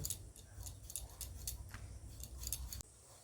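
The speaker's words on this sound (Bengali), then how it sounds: "এবার আমি এইভাবে আলুটা কেটে নেব" Knife cutting a peeled potato, heard as a quick series of faint, crisp taps and slicing clicks in a quiet kitchen.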